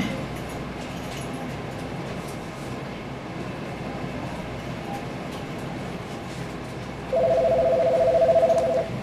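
Telephone dialing tones ring out for a call-in line, a steady electronic beep near the end that sits over a constant rumbling background.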